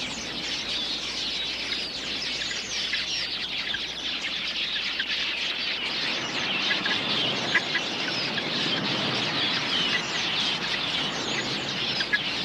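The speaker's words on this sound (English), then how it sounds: "A flock of quilias makes a hit-and-run raid on the waterhole." A hit-and-run raid by a flock of quelea birds on an African waterhole, heard as a dense, continuous chatter of many small birds calling at once, steady and fairly loud throughout with no voices.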